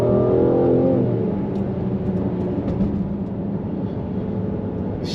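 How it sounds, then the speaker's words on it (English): Mercedes-AMG GLC 43 on a slick road, engine rising in a loud rev at first, then settling into a steadier, quieter drone as it downshifts and pulls, heard from inside with no voices. "You can feel it downshifting."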